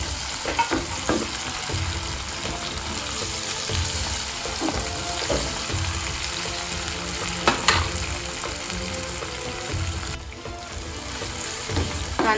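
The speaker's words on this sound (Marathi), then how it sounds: "तर यामध्ये आपण टाकणार आहोत हे टमाटर चिरलेलं" Chopped tomatoes fry in a green chilli thecha masala for a dry chicken dish, a continuous close sizzle with frequent stirring scrapes and clinks of a spoon against the pan, no one speaking.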